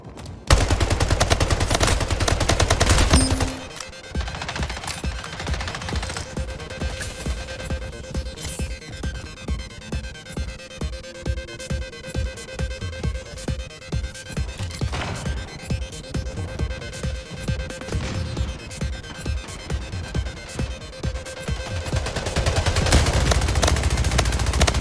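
Rapid gunfire from battle rifles in a shooter video game, a long string of dense, evenly spaced shots rattling for over twenty seconds, loud and close, with heavier rumbling blasts at the start and end.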